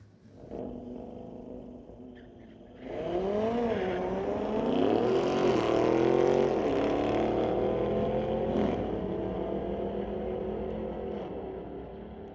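Street-legal drag race with a 2021 Audi RS6 against an orange Audi: after a quiet start, engines erupt into a loud, climbing roar with gear changes, holding strong for several seconds before slowly easing off.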